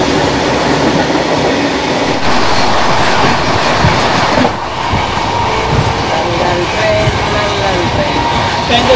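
The Shabd Bhedi Superfast Express on the Kolkata to Varanasi run clatters along the rails, a loud, continuous rumble with rhythmic wheel rattling that persists throughout.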